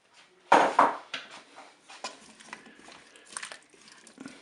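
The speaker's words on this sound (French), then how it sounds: "Je vais rajouter mes pommes de terre dans la cuve." Potatoes tumble into the metal bowl of a Cookeo multicooker while a turkey thigh with mustard is prepared, giving a couple of loud clattering thumps followed by lighter knocks and scrapes at close range.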